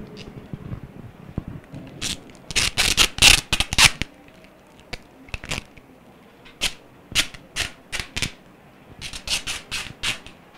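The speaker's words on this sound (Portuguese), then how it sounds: "pra gente reforçar, vamos pegar uma fita" Adhesive tape is pulled and pressed down to seal a homemade mosquito trap, giving sharp, close tearing and crackling bursts in irregular clusters with short quiet gaps between them, no voices.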